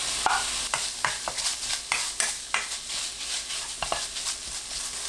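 Canned saury stir-fried in an oil-slicked pan with minced garlic and scallion, giving a steady close sizzle broken by a run of sharp spatula scrapes and clacks against the pan.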